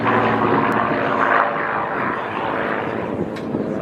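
A vintage propeller fighter with an elliptical wing, first flown in March 1936, passes at an air show in Wairarapa, its engine drone swelling then easing slightly as it moves, fairly loud and unaccompanied by voices.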